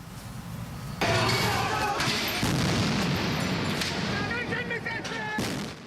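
Flares and fireworks go off at a nighttime street protest in Milan, a dense, continuous roar of crackling bangs and crowd noise running for several seconds.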